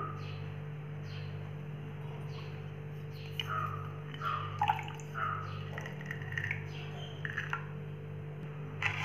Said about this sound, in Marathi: यात आपल्याला 2 लिंबाचा रस घालायचा आहे.